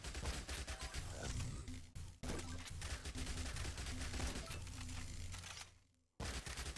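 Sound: SMG gunfire in Yet Another Zombie Survivors video game

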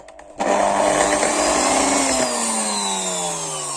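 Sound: electric mixer whipping egg whites into foam

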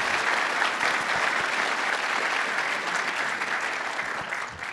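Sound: audience applause at a conference

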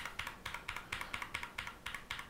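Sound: pressing the delete key on a computer keyboard

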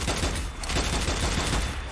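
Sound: gunfire from the video game Strange Brigade

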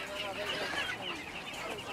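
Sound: hens and ducks on a farm

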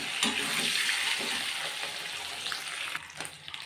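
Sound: duck eggs frying in oil

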